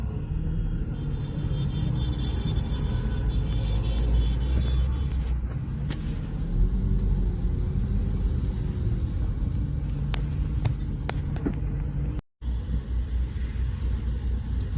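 A truck's engine rumbles steadily and close at hand for the whole stretch, a heavy continuous low drone with faint clanks on top and a momentary dropout near the end.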